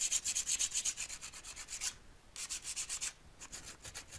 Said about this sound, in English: you just pick your sandpaper up and then you can just refile